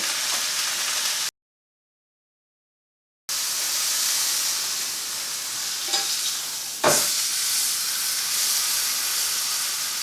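Roast beef sears in a hot pan as the meat is pressed down to render its fat, giving a steady, fairly loud sizzle and hiss with a brief gap and one sharp spatter partway through.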